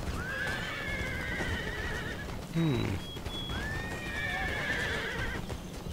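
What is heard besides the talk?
horses neighing and hooves in battle, Empire Total War video game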